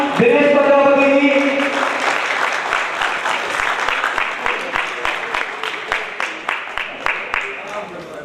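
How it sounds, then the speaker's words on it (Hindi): Applause from an audience at a Prajapati community jayanti celebration in Kaimganj, greeting Dinesh Prajapati; a dense wash of clapping that thins over several seconds into sparser, distinct claps, with some voices mixed in near the start. "ताली बजाकर बड़े भाई का स्वागत करें"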